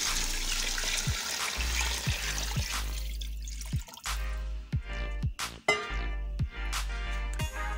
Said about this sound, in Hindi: इसमें हम 7 गिलास पानी शामिल करेंगे।